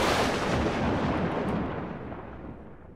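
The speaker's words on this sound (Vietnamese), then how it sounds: "Sấm nổ dữ dội." A violent thunderclap used as an audiobook sound effect erupts as a dense, loud broadband rumble right from the start, then slowly rolls off and fades over a few seconds, with no voices.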